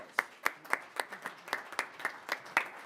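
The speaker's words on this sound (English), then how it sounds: "let's give our librarians a round of applause." Applause for librarians at a city council meeting, a modest group clapping in a fairly regular rhythm of distinct claps, fairly quiet and slightly distant, with no talk over it.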